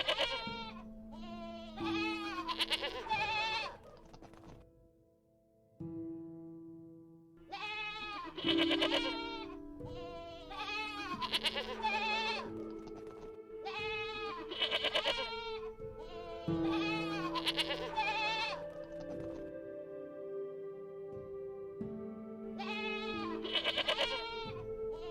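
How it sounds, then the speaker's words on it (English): Sheep bleat in a series of loud, close, wavering calls, several cries in bursts separated by short pauses. "Sheep."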